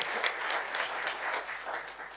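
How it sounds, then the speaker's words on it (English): Sustained applause from an audience at a conversation event with President Thabo Mbeki, dense steady clapping throughout with no talk. "Please give another round of applause."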